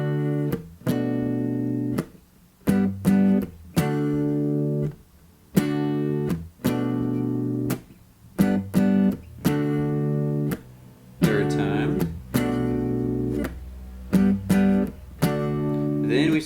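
A riff played on guitar, a looping pattern of plucked chords and single notes in short bursts with brief gaps, clean and close, no voices.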